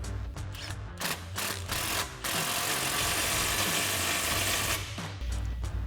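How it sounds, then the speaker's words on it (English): A ratchet with a 15mm socket on a long extension tightens an exhaust clamp under a Jeep Wrangler JL. Rapid, close clicking comes in short strokes, then a longer run of clicks. "we're going to be using our 15mm socket and a long extension to get up there easily"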